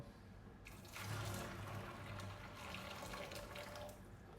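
Steady running water splashes continuously, like food being rinsed under a tap, with a louder gush partway through.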